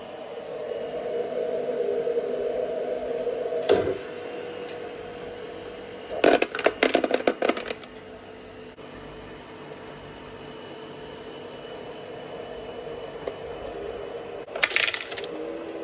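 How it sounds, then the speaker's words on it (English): A Fohere portable ice maker runs with a low, steady motor hum, broken by a few brief clatters and rattles, like ice shifting and dropping inside the machine. "See some ice being made in action, guys."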